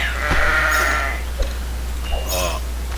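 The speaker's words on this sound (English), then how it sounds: "So, sheep must die. Kill the sheep." Cartoon sheep bleating in the tower defense game Kingdom Rush, a couple of short wavering bleats over a steady game background hum.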